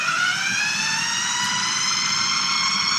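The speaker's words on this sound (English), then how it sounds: "And then we blend." A blender whirs steadily as it purees pear and parsnip soup with broth, a loud, continuous motor drone with a rising whine that holds for the whole stretch, with no talking.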